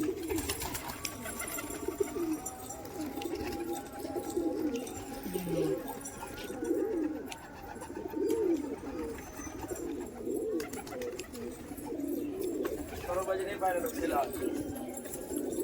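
A group of freshly released Murshidabad Giribaj pigeons keeps up a steady, low, rolling coo in repeated phrases, close by, while people talk over the birds throughout.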